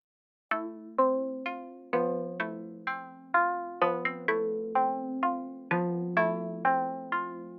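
A UK drill melody loop of plucked, bell-like synth notes, each striking sharply and decaying quickly in a steady, catchy, slightly dark pattern over a low sustained tone, with no drums or voices.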